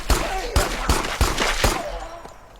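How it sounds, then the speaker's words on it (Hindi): Gunfire at a zombie in the horror video game Pine Harbour, a rapid burst of five loud shots in quick succession, followed by rumbling game ambience with a voice faintly under it. "गोलियां तो मैंने उसके 3-4 बजाए इस बार।"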